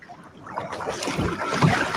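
Quiet kayak paddle strokes dipping into the sea, soft watery swishes over steady wind noise with no talking.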